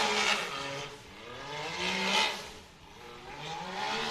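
A race UTV's engine runs, heard at a distance with rising and falling revs in a few swells, its buzzing, harmonic tone moderate and fairly faint, with no talking.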